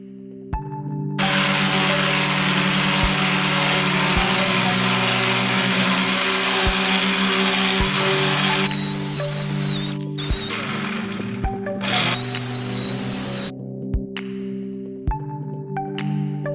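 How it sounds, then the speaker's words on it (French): An electric sander drones steadily across raw wood planks meant for a wall-mounted coat rack, with a loud humming motor and gritty hiss that shifts in pitch, cuts out briefly and restarts near the end. "j'ai acheté donc du bois brut parce que ça revient moins cher, que j'ai dû donc poncer bien sûr"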